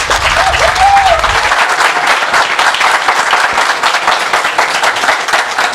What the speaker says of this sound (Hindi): एक बार सागर सर के लिए एकदम जोरदार तालियां